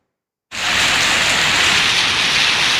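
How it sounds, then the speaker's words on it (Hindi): Heavy monsoon rain pours steadily in northern Pakistan's hill areas around Abbottabad and Nathia Gali, a dense, loud, continuous roar that starts abruptly after a brief silence and holds constant with no voices. "एबटाबाद, नथिया गली, अयूबिया और ठंडियानी में तेज बारिश।"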